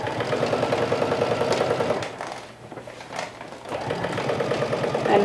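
A sewing machine runs in steady bursts as it stitches fabric for a bucket hat, with a brief slowdown midway before the motor hums back up to a continuous, close-up whir.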